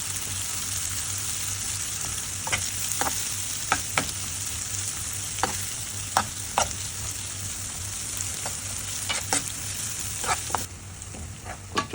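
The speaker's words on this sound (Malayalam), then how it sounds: "നമ്മൾ അരിഞ്ഞു വെച്ച കൊച്ചുള്ളി നല്ല രീതിയിൽ ഗോൾഡൻ ബ്രൗൺ ആവുന്നത് വരെ നന്നായിട്ട് തവി കൊണ്ട് ഇളക്കി കൊടുക്കുക" Chopped shallots frying in oil for a Kerala-style shrimp roast, stirred with a ladle until golden: a steady, soft sizzle broken by scattered sharp ladle clicks against the pan, with no speech.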